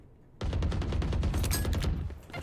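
Rapid automatic gunfire from the video game Valorant erupts after a brief quiet start and continues as a dense, loud burst of shots for about two seconds.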